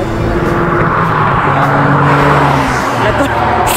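A Porsche sports car drives past on a residential street. Its engine gives a loud, close rumble that holds steady for a few seconds, with some brief tire noise.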